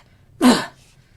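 A voice imitates a cat's wheezy, asthma-like cough, giving one short, harsh, breathy hack at close range with no other sound around it.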